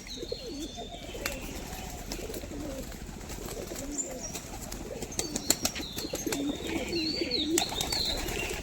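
Jack madi pigeons coo repeatedly in soft, low rolling calls, with bursts of flapping wings and faint chirps around them, fairly close and continuous.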